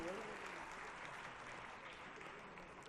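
Audience at a National Education Day and Minorities Welfare Day celebration applauds, a dense sustained clapping heard from a distance, fairly faint and steady throughout.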